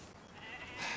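A sheep bleats faintly in the video game Red Dead Redemption 2, a single short call rising near the end amid soft background ambience.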